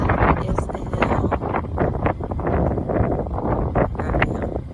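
Strong wind buffets the microphone at Gravity Hill in Prosser, Washington, a loud continuous roar with gusty surges and rustling throughout.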